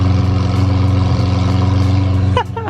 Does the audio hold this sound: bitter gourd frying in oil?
no